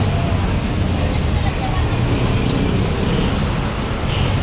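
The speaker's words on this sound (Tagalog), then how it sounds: "May kaunting traffic dito sa Marikina Bayan." Busy street traffic in the Marikina town centre, Philippines: a dense, continuous roar of passing cars, buses and tricycles nearby, with faint crowd babble mixed in.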